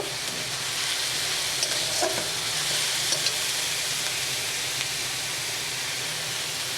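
Chopped ginger stir-fries in a pan for a pointed gourd, fish and potato dish: a loud, even hiss of hot oil broken by occasional spatula clicks and scrapes.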